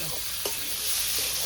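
Pieces of pork being stirred in a hot frying pan, a loud continuous sizzle broken by two sharp spatula scrapes against the pan, heard up close.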